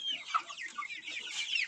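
Young chicks of various breeds peep and cluck softly in a chorus of quick, high chirps, close but faint, with no talk.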